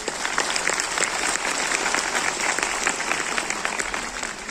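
Audience applause in a hall at a company event in Kolkata, dense steady clapping from a large crowd, loud and continuous throughout with no voices over it.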